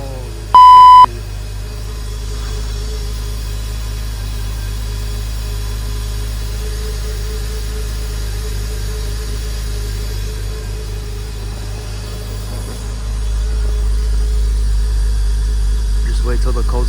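Porsche Boxster engine idling during a cold start, a steady low rumble throughout with a short beep near the start and idle rising slightly toward the end, while someone talks over it.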